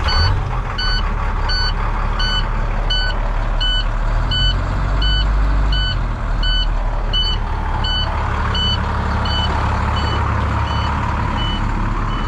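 A truck starting up gives off a loud, close, evenly spaced series of high beeps over a constant low engine rumble.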